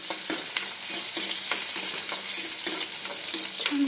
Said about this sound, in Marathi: थोडासा कांदा टाकायचा, मस्त असं फ्राय करायचं